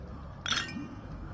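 Glasses clink once in a toast in Wuthering Waves, a single bright chime that rings briefly over a quiet low background.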